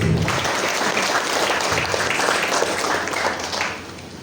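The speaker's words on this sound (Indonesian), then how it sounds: "tepuk tangan untuk Pak Pandi." A crowd applauds steadily with dense, continuous clapping for several seconds, fading slightly toward the end.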